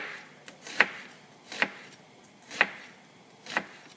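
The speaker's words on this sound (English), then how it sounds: "I'm going to just cut up my onion, chop it up finely" A knife chopping an onion finely on a cutting board, four sharp, evenly spaced chops about a second apart, close and clear with a quiet background.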